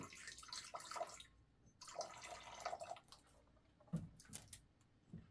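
Water pours into a container of Tang orange drink mix in two short bursts of splashing and trickling, then a few scattered drips and small clinks, close and fairly quiet with no talking.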